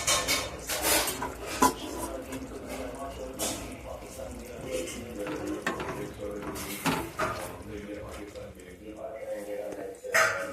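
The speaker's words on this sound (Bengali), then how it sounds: "এবার আমি ঢাকনাটা খুলছি।" A metal lid comes off a cooking pot of boiled carrots with a clink of metal, among other pot and utensil clatter in a home kitchen, while a person talks over it.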